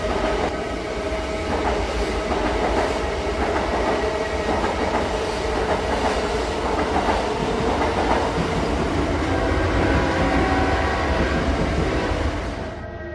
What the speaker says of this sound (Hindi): रात के 8 बजे शताब्दी एक्सप्रेस स्टेशन पे आती है।